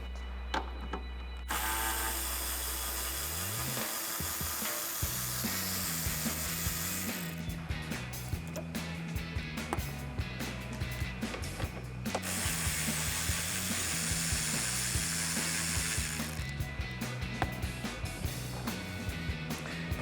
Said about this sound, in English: once again using my 10mm socket and ratchet, I'm going to remove the 2 bolts here on the front of the headlight